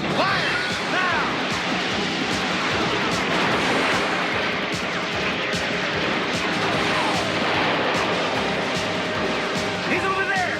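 Gunfire rattles through a Robocop cartoon shootout as a dense, continuous barrage of shots and crashes, loud and close, with voices shouting over the commotion.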